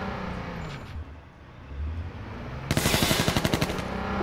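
Rapid bursts of automatic gunfire from a video game, loud and rhythmic, starting partway through after quieter background noise.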